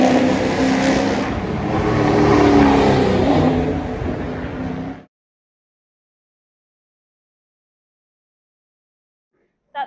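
Ute race car engine revving hard during practice at the Gold Coast street track in Queensland, a loud continuous roar for about five seconds that cuts off into silence, with a brief faint sound at the very end.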